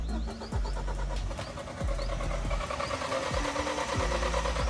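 Mahindra XUV700 with an empty fuel tank cranks repeatedly after the start-stop button is pressed, a close, rhythmic starter churn with brief catches, failing to rev and cutting off.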